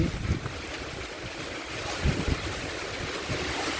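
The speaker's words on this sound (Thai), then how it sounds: "ฝนลมมาอีกแล้ว" Strong wind roars steadily with a dense hiss like rain, buffeting the microphone in low rumbling gusts.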